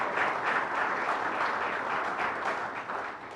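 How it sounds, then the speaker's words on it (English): A banquet audience at a Hall of Fame dinner claps together, a dense steady round of applause that holds for several seconds and slowly tapers at the end. "Can we give them a round of applause?"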